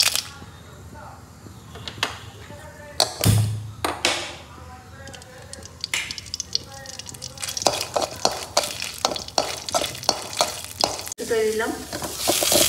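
Chilies and onions fry in a pan with a close, steady sizzle broken by frequent scraping and clattering of a stirring utensil, while people talk nearby.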